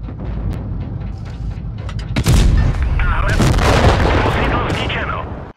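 Tank cannon fire in World of Tanks: a steady rumble of engine and battle noise, then a heavy, loud boom about two seconds in, followed by sustained crackling blasts and impacts that fade near the end.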